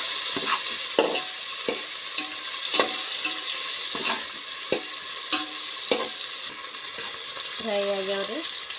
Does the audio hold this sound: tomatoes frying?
yes